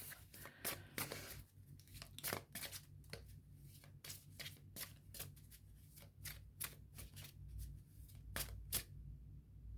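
Small deck of Lenormand cards shuffled by hand for a reading, a close, quiet run of crisp riffling and slapping bursts in an uneven rhythm, with no talking.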